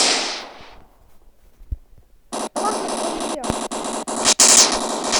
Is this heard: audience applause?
no